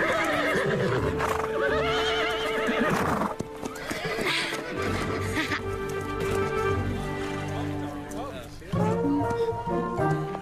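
Horses whinny and neigh amid clip-clopping hooves, with people talking excitedly over the busy, continuous scene.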